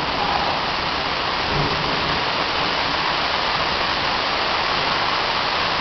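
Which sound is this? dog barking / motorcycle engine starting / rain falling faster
rain falling faster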